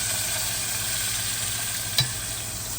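Chopped tomatoes and green chillies with turmeric and asafoetida in a hot pan, a steady even sizzle with one brief knock of a utensil near the end.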